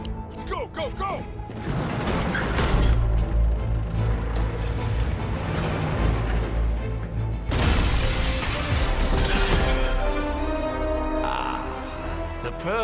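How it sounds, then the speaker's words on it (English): Device being smashed in the Marvel's Midnight Suns video game, with loud bursts of shattering glass and crashing debris over a heavy, rumbling background and game music, and voices speaking during the noise. "I thought smashing was your thing, Bruce."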